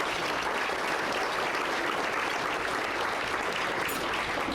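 Steady, full applause from the attendees of a town business appreciation breakfast, a continuous wash of many hands clapping at even loudness.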